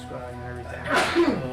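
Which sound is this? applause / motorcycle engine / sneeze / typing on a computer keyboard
sneeze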